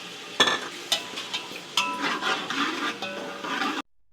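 Minced garlic, ginger and green chillies fry in a hot pan for a chicken korma, a steady close sizzle broken by several sharp stirring scrapes and clinks before cutting off.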